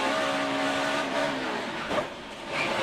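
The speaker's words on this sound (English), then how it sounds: "Kind of hear those tires break loose on the Carl's car." A NASCAR race car's tires break loose, heard as a sustained engine roar with a squealing, slipping tone, loud and continuous with no talk.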